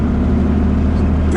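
First-generation Dodge Ram pickup with a Cummins 5.9-liter straight-six diesel, heard from the cab as a steady, loud, low engine rumble, unbroken for the whole moment.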